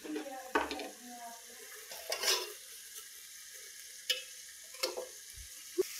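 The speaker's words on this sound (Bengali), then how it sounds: "এখন আমি তেলের মধ্যে ছেড়ে দিছি মাছগুলা" Shing fish dropped into hot oil for a curry: bursts of frying sizzle with a few clinks of a utensil against the pan, then quieter crackling.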